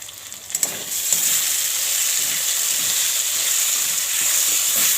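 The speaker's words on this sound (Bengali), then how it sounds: "আর এই যে মাংসটা কষানো হচ্ছে মশলা।" Meat being sautéed with spices in a pan, a steady close sizzle with bright frying hiss throughout and a few sharp stirring knocks near the start, no talking.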